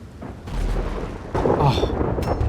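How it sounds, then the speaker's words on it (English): Thunder rolls through a rainstorm in the Red Dead Redemption 2 game, a loud low rumble that swells partway through over a steady wash of rain. "The weather should start to get really rainy. There should start to be some thunder."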